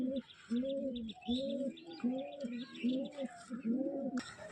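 Pigeons cooing at close range, a run of repeated low throaty coos in a steady pulsing rhythm, with faint chirps and higher bird calls behind them and no talking.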